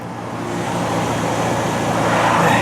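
A 2005 Pontiac Sunfire two-door idles just after a cold start in freezing weather, a steady, loud, close engine rumble with a broad hiss building slightly toward the end.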